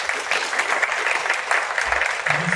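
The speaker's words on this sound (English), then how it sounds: "Let's have another round of applause for our candidates." Sustained applause from a seated audience after a debate between Vermont lieutenant governor candidates, a dense even wash of many hands clapping with no talk over it.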